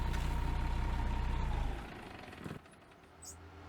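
Ford Cargo truck engine in Euro Truck Simulator 2 idling with a steady low rumble, then shutting off partway through and leaving a quieter tail of faint ambient noise.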